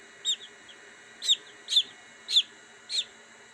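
Newly hatched Chinese Silkie chicks give five thin, high cheeps, spaced unevenly about half a second to a second apart, close and fairly clear against a quiet room.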